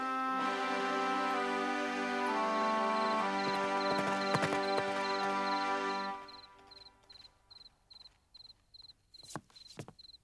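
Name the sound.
horse galloping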